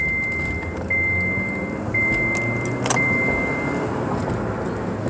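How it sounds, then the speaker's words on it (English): A car drives through traffic, its steady engine and road rumble continuous and moderately loud, with faint intermittent high electronic beeps over the top and no talk. "I'm trying to navigate this traffic as well,"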